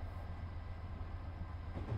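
P32 locomotive in Train Simulator 2019 slowing toward a station, a steady low rumble of rolling wheels and motor with faint rail clatter, quiet and continuous, no voices.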